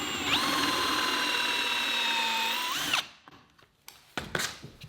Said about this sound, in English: We can come over here with our plug cutting bit, and this is a piece of scrap wood